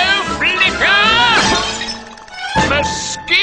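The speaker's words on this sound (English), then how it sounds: "break the glass" Glass shattering loudly in an animated medieval fantasy cartoon, a sharp crash with ringing, tinkling shards, set among bright cartoon voices and effects, with a second crash near the end.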